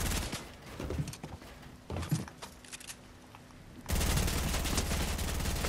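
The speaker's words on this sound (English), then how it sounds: "This SMG is crazy as well." SMG fire in Fortnite sounds as quick, close bursts of rattling shots with brief pauses, then a sustained dense, loud stream of automatic fire in the final seconds.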